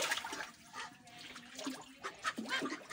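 Ducks bathe in standing water in a backyard, giving soft irregular splashing and trickling with small bursts, close and moderately quiet, with no talking.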